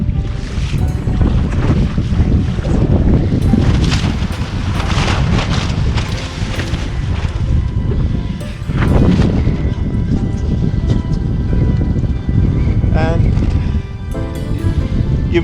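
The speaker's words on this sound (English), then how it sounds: "Here comes the wind." Strong wind gusts roar across the microphone outdoors, buffeting continuously with a couple of brief lulls, while a voice talks over it.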